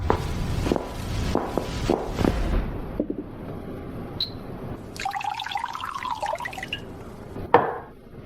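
Wine is poured into a glass, a short liquid trickle and splash following a few clinks and knocks, heard close and quiet with no talking.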